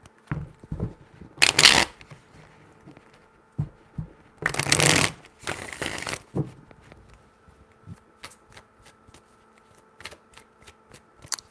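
Tarot cards are shuffled by hand up close, with several riffling bursts and soft flicks and taps scattered between them, some louder, some faint.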